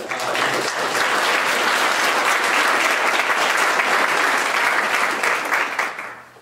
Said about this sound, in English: we can give a quick round of applause